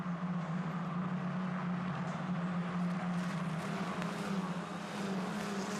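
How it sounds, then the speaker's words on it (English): Formula 4 style single-seater racing car running at Monza's Ascari section, a steady loud engine drone with a low hum, with gritty broadband noise of gravel being kicked up throughout. "You can hear the gravel being thrown up by one of the Van Amersfoort racing cars."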